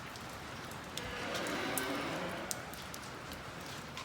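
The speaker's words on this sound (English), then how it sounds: "It is raining" Rain falling outdoors with a faint, steady patter on surfaces and a few sharper drops standing out, fairly quiet throughout.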